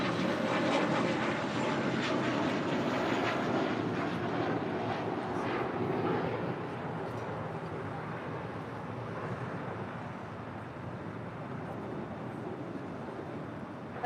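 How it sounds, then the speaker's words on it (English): An Eva Air Boeing 777 rolls down the north side runway at LAX, a loud broadband jet roar heard from a distance that fades slightly as it continues, with wind noise underneath. "Eva Air, the 777 now rolling down too far left there on the north side"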